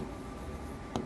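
Pen or chalk writing notes during a Class 10 science lesson, a continuous faint scratching stroke under a steady room hum, ending in a brief tap, with no talk.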